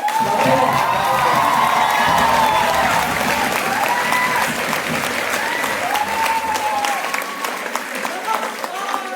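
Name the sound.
audience applause at a theatre play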